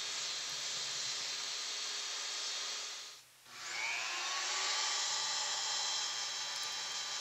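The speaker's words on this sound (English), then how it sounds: "I'll use my detail belt sander, power file, whatever we're going to call that." A detail belt sander, also called a power file, grinds the ends of brass drum lugs to round off sharp edges, giving a steady, loud abrasive whine that cuts out briefly in the middle and then resumes.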